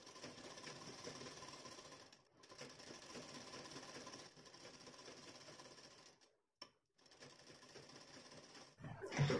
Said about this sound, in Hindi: ये दोनों साइड के शोल्डर को मिलाते हुए रखेंगे और इस पर सिलाई लगा लेंगे।